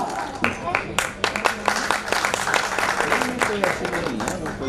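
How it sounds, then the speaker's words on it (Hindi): Loud applause from an audience at a fashion show evening, scattered sharp claps building into a dense, steady clatter with voices mixed in underneath. "तालियां हो जाए यार जोरदार"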